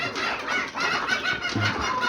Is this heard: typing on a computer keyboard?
no